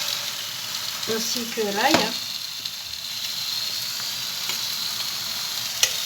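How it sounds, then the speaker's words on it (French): Onions and garlic sizzle steadily in a frying pan, a constant crackling hiss with a brief voice speaking early on and a few light stirring clinks. "Là on est pour pocher donc les oignons"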